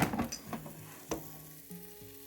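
Cooked pork chops sizzle in an air fryer basket, a soft crackling fizz broken by a few sharp clinks and light metallic knocks, close and fairly quiet with no speech.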